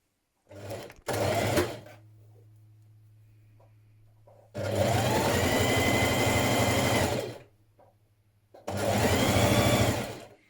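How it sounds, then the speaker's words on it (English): A sewing machine stitches the back centre seam of a dress in three loud bursts, short at first, then a long steady run and a final run, with quiet pauses and a faint low hum between. "Next, you're going to sew your back centre seam"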